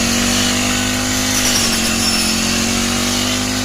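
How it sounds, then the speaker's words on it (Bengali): A Chinese-made rice harvesting machine cutting paddy, its engine a loud, constant drone with a steady hum and buzzing mechanical roar, running close and unbroken. "দেখছেন ভাই কত সহজে ধান কাটা যায়।"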